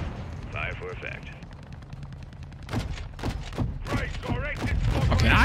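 Artillery fire in the video game Modern Warfare 2, with heavy booming blasts and bursts of gunfire rising toward the end, mixed under voices talking.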